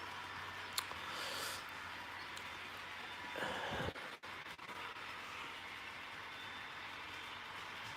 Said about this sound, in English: I'm running my freight train first